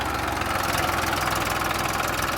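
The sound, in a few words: Massey tractor engine idling in field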